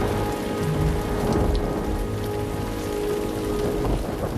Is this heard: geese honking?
no